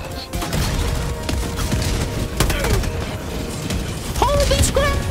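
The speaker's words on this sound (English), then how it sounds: "Firing orbital barrage, clear the area." Orbital barrage strikes pound the battlefield in Helldivers 2, a steady roll of heavy booms and blasts with crackling debris, loud and continuous, overlaid with game chatter and voices.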